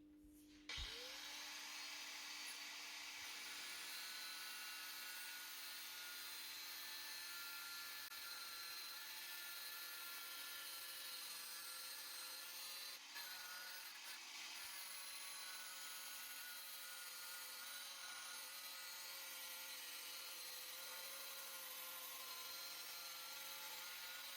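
An angle grinder shrieks through metal in one long, harsh, high-pitched cut, loud and close, with only a couple of brief dips in intensity.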